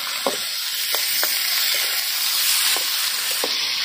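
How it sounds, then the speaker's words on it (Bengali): Steady loud sizzling of pork pieces frying with spices in a pan for a pork curry with bamboo shoots and jackfruit seeds, with a few soft stirring clicks over the continuous hiss and no talking. "এখন মাংসের পিসগুলো দিয়ে দেওয়া হইতেছে"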